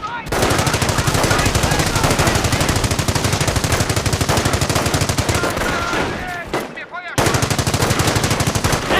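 Sustained machine gun fire in the Company of Heroes strategy game, dense rapid bursts running nearly the whole time with a brief gap near the end, loud and close with faint voices mixed in.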